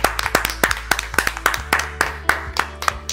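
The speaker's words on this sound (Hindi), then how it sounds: "डॉक्टर श्वेता जी के लिए एक बार जोरदार तालियां।" An audience at a Raksha Bandhan poetry gathering claps in appreciation, a run of sharp, evenly spaced handclaps that sounds like a small group close by, with a low steady hum beneath and no talking.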